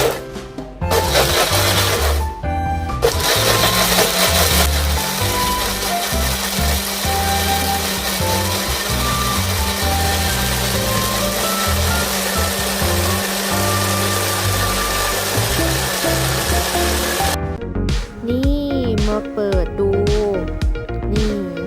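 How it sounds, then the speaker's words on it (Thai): Kitchen blender whirring steadily as it purées coriander with fish sauce, a loud continuous motor drone after a couple of short starts, ending as people begin talking. "แล้วก็จะเอามาปั่น มีน้ำปลาด้วยนะ อ่าเดี๋ยวจะมาเริ่มปั่นกันแล้ว"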